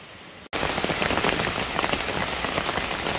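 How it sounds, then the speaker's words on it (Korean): Heavy rain pours in a Malaysian jungle, starting abruptly as a dense, steady hiss of drops hitting leaves and surfaces, loud and close throughout, with no voices. "결국은 비를 못 피하고 이제 비를 맞고 가고 있습니다"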